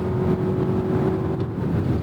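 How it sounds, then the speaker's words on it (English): A 2025 Lexus UX300h hybrid's CVT droning at full throttle, a steady, monotonous engine hum held at one pitch without rising, heard from inside the cabin. "you get that CVT drone a little bit, not a lot of oomph"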